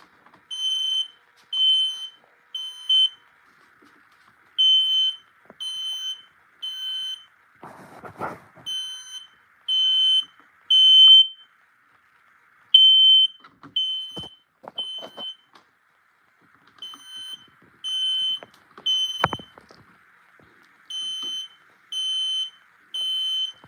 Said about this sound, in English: It will go into a alarm mode, which will be beginning. Okay, it's beginning right now.